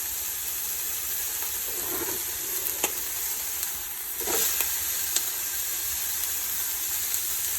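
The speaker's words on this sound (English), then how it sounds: "And to that I'm going to add garlic and onion" Freshly chopped garlic and onion sizzle in oil in a pan for chicken, kale and vegetable soup, a steady soft hiss with a few sharp clicks and pops, fairly quiet, no talk.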